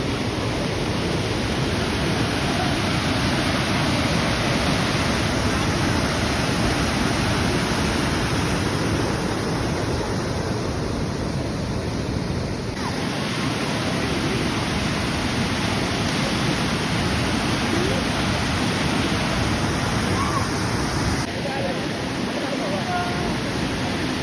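Vadattupara waterfall roars as a dense, continuous rush of falling water, loud and unbroken for the whole stretch, with brief dips in intensity but no voices on top.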